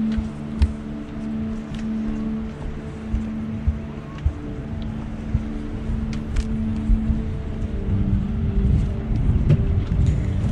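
A boat's engine drones steadily in a low, continuous hum with a tonal rumble, accompanied by wind and occasional knocks nearby.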